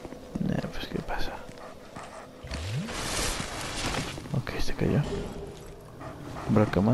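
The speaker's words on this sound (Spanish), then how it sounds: "Un perro." A dog in the game Dark Souls II gives short barks and whimpers among combat clatter and footsteps, mixed with a voice talking over the gameplay.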